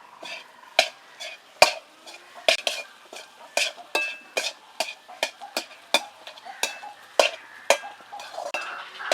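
A spoon scrapes and clinks against a pan as fried spice powder is mixed into a potato filling for aloo chop. The stirring strokes are quick and irregular, fairly close, and no one speaks.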